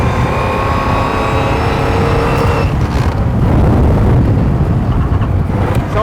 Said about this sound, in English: So on the brakes and changing down with the doubly clutching, just sliding it through the corner.